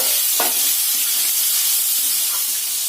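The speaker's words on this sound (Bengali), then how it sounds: "ফুলকপি, বিট, গাজর, বিন, কড়াইশুঁটি সব কিছু দিয়ে আমি এবারে ভালো করে কষিয়ে নেব।" Cauliflower, beet, carrot, beans and peas saute with spices in a pan, giving a steady close sizzle and hiss with a few soft stirring scrapes and no voices.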